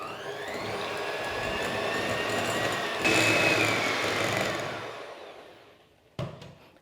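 An electric hand mixer beats 125 grams of butter for coffee walnut cupcake frosting, a steady close whirring drone that rises slightly midway, then cuts off with a brief clatter near the end.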